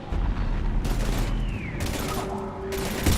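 Gunfire in Mass Effect 3 combat: bursts of weapon fire that start and stop, with a rising mechanical whine and a humming tone between shots, loud and close.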